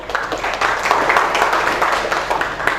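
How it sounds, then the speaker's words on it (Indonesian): Classroom applause for a student group after their presentation, steady clapping from a room of students, close and sustained throughout with no pauses. "Kita beri aplaus untuk mereka"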